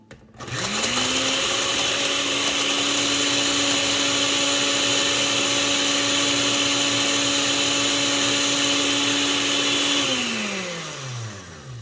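A food processor runs steadily for about ten seconds, grinding dehydrated food into breadcrumbs with a loud, even motor whir that starts up and then winds down at the end.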